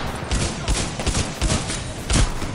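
Mozambique shotgun firing in Titanfall: several sharp, loud blasts in quick irregular bursts over about two and a half seconds, close and punchy, with no talking.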